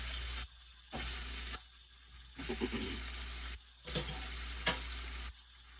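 Ground turkey fries in a pan for spaghetti sauce, a soft sizzling hiss that drops out and returns in bursts, with a few stirring scrapes and clinks, quiet and close with no talk.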